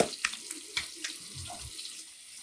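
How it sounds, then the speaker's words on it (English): Tap water runs into a sink for rinsing off alum after a safety razor shave, a soft steady flow with light splashes and drips, fairly quiet and close. "rinsing off the alum always feels good, especially if I get to it before it starts to feel itchy"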